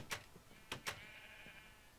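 Sheep bleating in Minecraft, a few short bleats from the pink sheep pair, with a faint steady tone lingering after them and no voices over the sounds.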